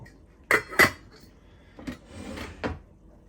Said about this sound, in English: Let's put a lid on the other one as well, shall we?